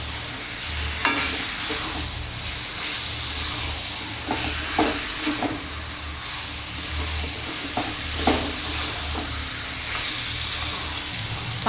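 Chicken curry is stirred in a pan over a continuous sizzle, with intermittent spoon scrapes and clacks recurring every second or so.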